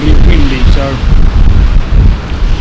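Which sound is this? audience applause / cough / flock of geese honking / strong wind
strong wind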